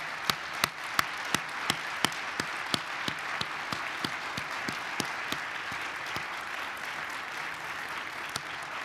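An audience applauds the winning teams at a company's annual shareholders' meeting, a steady spread of many hands clapping in a hall, with a few sharper individual claps standing out near and far.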